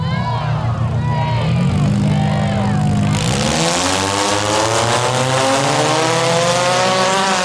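Several cars roar around a figure 8 track during a demolition derby heat in Huntsville, Ontario, their engines loud and steady and revving through turns, while an announcer talks over the racing.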